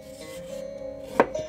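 A knife slices through a radish, giving one crisp cutting knock near the end, close and clear over a faint background hum.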